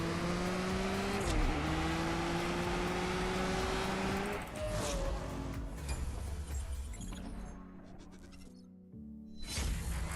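A race car in the CSR2 mobile racing game revs hard with rising engine tones and gear shifts, loud and close, then cuts briefly to near silence before the engine noise returns.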